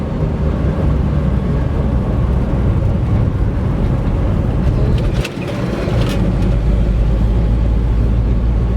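A 1964 Ford Falcon with a three-on-the-tree manual gearbox cruising straight down a road, heard as a loud, steady rumble of engine and road noise with a brief dip midway; no speech.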